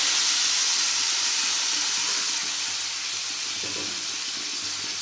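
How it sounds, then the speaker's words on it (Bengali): Water poured into a hot pan of fried tengra fish for a thin cauliflower curry sets off a steady, close hissing sizzle that continues evenly throughout, with no voices. "এবার দিয়ে দেব পরিমাণ মতো জল।"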